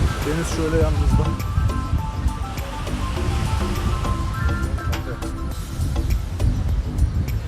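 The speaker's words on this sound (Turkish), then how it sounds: "Deniz şöyle yanımızda." Sea waves wash steadily beside a tour boat on a coastal bay trip near Kuşadası, with continuous rushing surf and water noise filling the scene. A voice talks over the water throughout.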